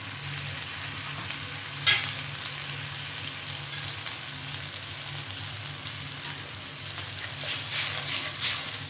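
Mustard paste in a cooking pan gives off a steady, moderate sizzle and bubbling hiss, with one sharp clink near the start and light stirring scrapes toward the end, no voices.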